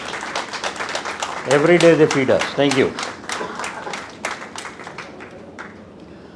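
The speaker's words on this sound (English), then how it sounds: "Let's all clap for them." Audience at a career talk clapping for farmer families, a short burst of applause mixed with someone speaking, then scattered claps fading out.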